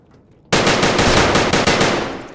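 An ADAR rifle in the shooter game Escape from Tarkov fires a loud, sustained burst of rapid, evenly spaced shots after a brief quiet start, continuing to the end of the clip.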